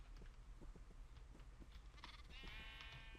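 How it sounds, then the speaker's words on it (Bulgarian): Sheep bleat faintly in the Minecraft video game amid steady background noise, with a few short calls spread across the span and no talk. "Още една овца."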